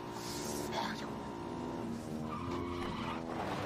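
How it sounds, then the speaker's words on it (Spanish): Car skidding with tire squeal in a Mexican TV comedy episode, a steady loud engine-and-skid noise over about four seconds with a music bed and voices underneath. "Un coche por ahí estrellando."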